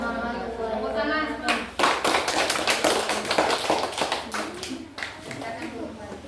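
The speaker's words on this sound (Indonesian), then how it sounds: "Tepuk tangan." A class of schoolchildren at an Indonesian Islamic lesson breaks into a burst of applause after a closing greeting, dense overlapping hand claps lasting several seconds before thinning out, with a voice speaking before it begins.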